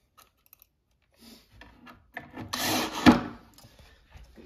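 Screws being driven into a wooden shelf of a tall custom storage unit, heard as a short burst of grinding and scraping around the middle of the clip, with faint tapping and handling noises before and after.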